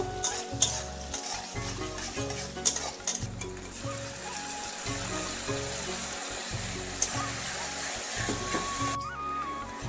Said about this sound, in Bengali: পেঁয়াজটা একটু লাল লাল করে একটু ভেজে নেব